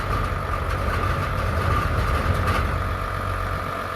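Old engine idles in February after a cold start, a dense, steady low rumble with a rough, even throb that stays loud and constant throughout.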